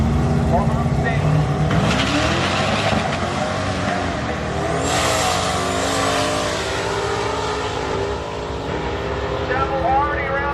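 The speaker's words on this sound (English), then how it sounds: "Chapel already around the Corvette at mid-track. Now he needs to get there first and not break out" Drag race cars, one a Corvette, accelerate hard down the strip at an LS Fest East event, a loud sustained engine roar rising in pitch, with a race announcer talking over it throughout.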